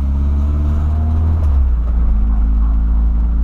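Loud, steady engine rumble from a Volkswagen Voyage with a boxy body and a suspected wheel problem, a deep continuous drone close by that shifts slightly in pitch partway through, with no talking.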